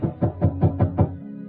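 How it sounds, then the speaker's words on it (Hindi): A story sound effect of knocking on a wooden door at night: six evenly spaced, loud, close knocks in quick succession, followed by a short fading resonance, with no speech. "उसने आगे बढ़कर दरवाजा खटखटाया।"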